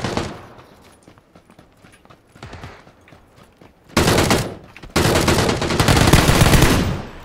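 Sparse distant pops give way to loud bursts of rapid automatic gunfire in PUBG, sustained and close, with short gaps between volleys.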